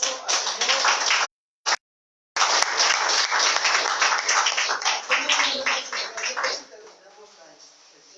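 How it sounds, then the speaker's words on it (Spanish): Church congregation applauding during a Spanish-language morning service, steady broadband clapping for about six seconds with a brief drop to silence, then tapering off. "Dale un fuerte aplauso al Señor."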